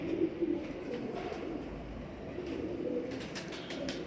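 High flyer pigeons coo softly in a low, rounded murmur, a few gentle repeated calls near the start over quiet outdoor background noise, with faint rustling later.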